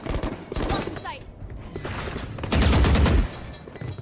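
Gunfire in Valorant comes as rapid bursts of shots, loud and close, with a heavy burst near the end, while a commentator talks over the action.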